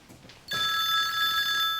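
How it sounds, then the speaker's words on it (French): A telephone bell starts ringing suddenly after a brief quiet moment, a loud, steady electronic trill that is close and heard alone. "Votre téléphone!"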